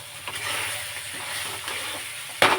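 Cumin and coriander powder sizzle in a hot pan as they are stirred, a steady close frying hiss with soft scraping, ending in a brief louder clatter.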